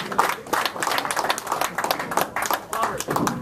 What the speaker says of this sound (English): Give a round of applause for us.